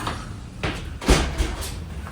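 Door being opened or closed at a coffee shop in Chicago, a couple of soft knocks and thuds against a busy indoor room murmur.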